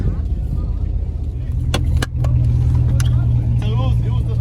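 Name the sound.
Camaro SS engine running after misfire repair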